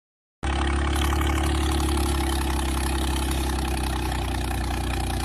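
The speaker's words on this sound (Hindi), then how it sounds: "नंबर 1 पर जोनी देशवाल का ट्रैक्टर।" A tractor's engine starts up and settles into a steady, loud idle, a constant rumble that runs unbroken after a brief silent start.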